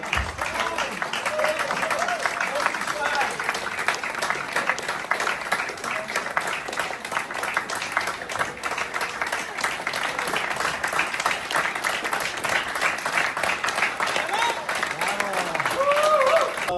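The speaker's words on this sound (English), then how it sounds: "people want to applaud you." Steady, sustained applause from a large audience, dense clapping filling the whole stretch with crowd noise and a few voices mixed in.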